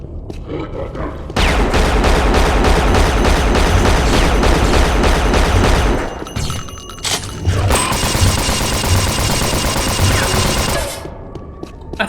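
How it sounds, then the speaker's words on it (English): The Stinger gun in Unreal firing Tarydium crystals: a loud, rapid, sustained stream of buzzing shots in two long bursts separated by a brief pause, with faint mechanical clicks at the edges. "This is the Stinger. It shoots basically Teridium crystals"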